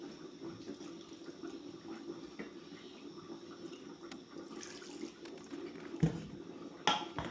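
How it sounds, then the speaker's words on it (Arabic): Water is poured in while cooking a chicken seffa, a fairly quiet, steady liquid pour running throughout, with a couple of small clinks near the end. "وغادي ندير الماء."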